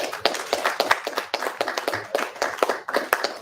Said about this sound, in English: So let's give the Most High a round of applause for a beautiful Torah portion.